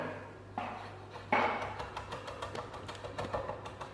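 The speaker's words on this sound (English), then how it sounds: "Chop a little bit of parsley." Quiet, rapid knife taps on a cutting board in a steady chopping rhythm as parsley is chopped, no talking.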